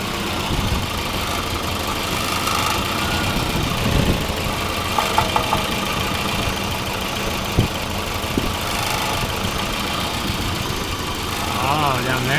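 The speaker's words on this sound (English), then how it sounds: "What is that rattling?" A Volvo 240 engine idles with a loose heat shield rattling, giving a continuous mid-pitched hum with faint metallic buzzing and a few sharper clicks, while people talk nearby.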